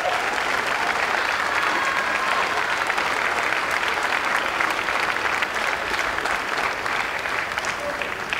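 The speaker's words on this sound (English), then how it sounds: "please hold your applause" Steady, full applause from a large crowd at a high school senior athletic awards ceremony fills the whole stretch evenly, with no break.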